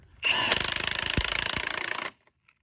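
A Milwaukee M18 FUEL power tool drives a spring compressor tight on a shock absorber, giving a loud, close, steady whirring burst of rapid impact-like rattles that lasts about two seconds and then stops.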